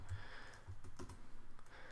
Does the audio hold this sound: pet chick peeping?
no